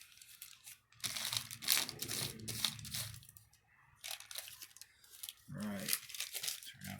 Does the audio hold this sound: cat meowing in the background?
no